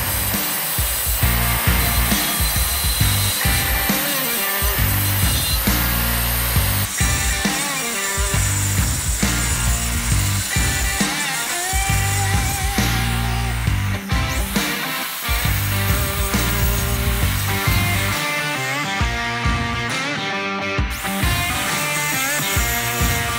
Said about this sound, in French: Voilà les amis, la coupe est faite. C'est pas parfait parce que j'ai une meuleuse